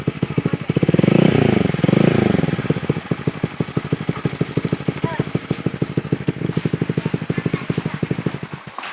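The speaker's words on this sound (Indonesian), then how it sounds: "unboxing dan juga tes suara knalpot Yoshimura R11 ya." A motorcycle fitted with a two-outlet Yoshimura R11 aftermarket exhaust revs loudly with a throaty note, then settles into a rapid, pulsing idle, close and dominant throughout.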